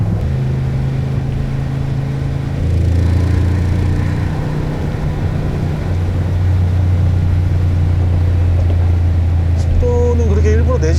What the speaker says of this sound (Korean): 이제는 배기음을 한번 들어볼게요